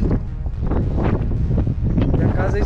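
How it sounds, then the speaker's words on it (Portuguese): Strong wind blows outdoors around an abandoned house, roaring gusts buffet the microphone continuously and loudly while people speak underneath. "Thaís, tá ventando muito aqui."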